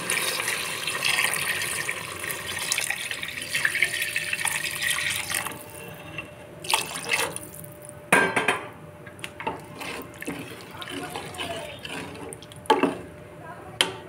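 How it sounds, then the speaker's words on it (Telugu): Water pours steadily into a pot of rice for cooking for several seconds, then the pouring stops and a few sharp clinks and knocks of the vessel follow. "దీన్ని వాటర్ యాడ్ చేస్తున్నాను."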